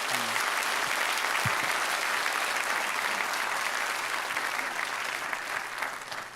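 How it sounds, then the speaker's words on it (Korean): A church congregation at a Sunday worship service claps steadily in welcome for a visiting pastor, a dense, even wash of applause that holds throughout and eases slightly at the end. "사랑과 환영의 박수로 맞이하겠습니다."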